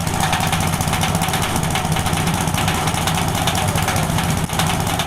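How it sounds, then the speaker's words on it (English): The engine of a homemade corn shelling machine built by two brothers, running loud and close with a constant rough drone and vibration that holds steady throughout, no voices. "They've also created a corn shelling machine"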